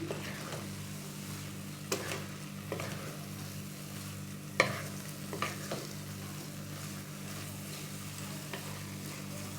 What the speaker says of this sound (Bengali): আমি এবার নেড়ে এর সঙ্গে মিশিয়ে দিচ্ছি রসটা মিশে যাচ্ছে